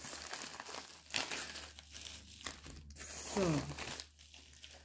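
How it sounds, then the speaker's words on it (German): Paper crinkling and tearing as an item is pulled out of a crinkly envelope, close and moderately loud in bursts, with a brief spoken word and low background hum. "Ich grab das mal gerade mal da raus. Weil das kommt immer so in so Umschlag."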